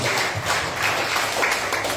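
A Sunday church congregation claps for Jesus during worship: a dense, steady patter of many hands filling the room, even and unbroken for about two seconds.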